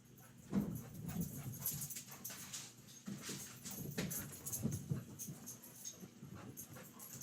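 Dogs whimpering and panting nearby, faint repeated whines and breathy sounds in an indoor room, with no talking.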